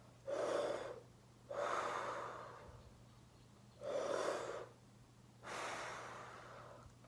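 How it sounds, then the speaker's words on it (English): A person breathes deeply through the nose with a hand near the face, making a rasping, Darth Vader-like sound. Four slow, loud breaths alternate between inhaling and exhaling against a faint low hum. "that really kind of gets me to sound sort of like Darth Vader's breathing machine"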